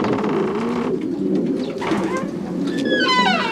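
Racing pigeons coo softly after a competition flight in low, repeated throaty calls, with a few higher bird chirps and some rustling nearby.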